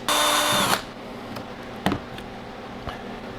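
A power drill bores holes through a batch of freeze-drying food, one loud burst of about three quarters of a second, followed by a few faint knocks and clicks.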